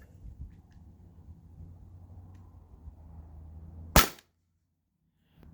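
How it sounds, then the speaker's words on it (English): A single sharp, loud crack from a T4E HDP50 Gen 2 CO2 pistol fired at a can lying on its side, the last shot from the first CO2 cartridge, standing out against low background rumble and followed by near silence. "So this is my last shot with the first CO2 cartridge."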